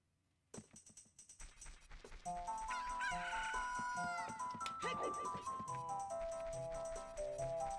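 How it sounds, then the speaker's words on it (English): A chicken in the Zelda Ocarina of Time video game crows loudly over busy game music and sound effects, with the calls blending into a dense, continuous mix. "Hey man, I got a chicken."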